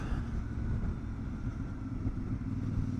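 A CF Moto 450MT motorcycle's engine rumbles steadily at low revs in sixth gear around 28 mph, a dense low drone with constant road and wind noise and no voices.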